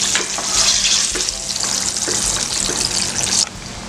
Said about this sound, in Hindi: देख सकते हो दूसरा लॉट भी मैं फ्राई कर रहा हूँ